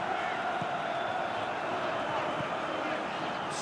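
A stadium crowd roars continuously in a PES football video game, a dense, steady wash of cheering that stays loud throughout.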